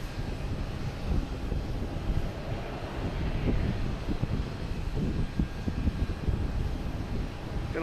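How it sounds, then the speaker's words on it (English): A Porter Airlines turboprop airplane taking off at Boston Logan Airport, a low, broad engine roar heard from a distance, buffeted by wind noise on the microphone. "Gotta love the turboprops."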